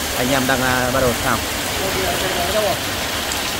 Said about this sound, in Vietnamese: Bây giờ trời mưa rất to luôn nhé.